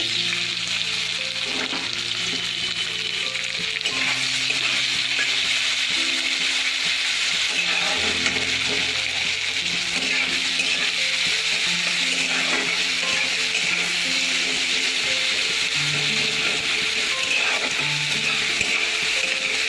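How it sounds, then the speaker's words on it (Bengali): Onions fry in a pan with a steady, dense sizzle throughout, and occasional stirring and clinking sounds run beneath the continuous crackle. "পেঁয়াজটা লাল করে ভেজে নেব।"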